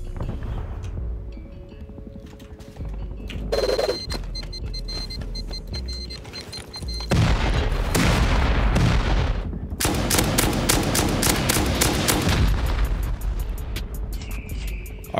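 Heavy rocket launcher explosions tear through a reinforced base during a raid in the video game Rust, arriving as loud, sharp bursts and rapid clustered blasts after a quieter, rumbling stretch.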